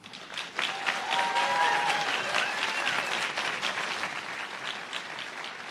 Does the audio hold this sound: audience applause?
yes